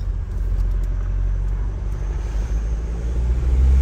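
A GWM Cannon diesel ute with a throttle controller fitted, driving in sport mode: a steady low engine and road rumble heard from inside the cab, with the drone building slightly toward the end.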